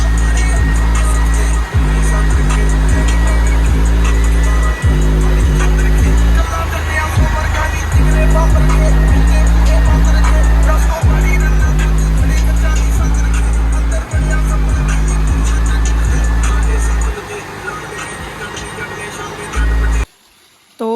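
A tractor drives through a farm field at night, its steady low engine drone running almost continuously with brief dips and a short gap near the end, under occasional talk.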